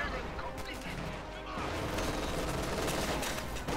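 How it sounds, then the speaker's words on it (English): Anti-tank guns firing on a bunker in Company of Heroes 2, a rapid fusillade of overlapping gunshots and crashes that keeps up throughout, louder in the second half. "Troops are suppressed, anti-tank guns they're firing at the bunker."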